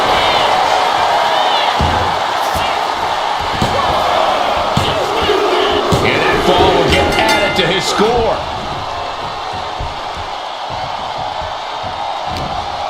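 A WWE SmackDown arena crowd roars during a match, a dense constant din with sharp impacts, while a commentator talks over it before the noise drops back.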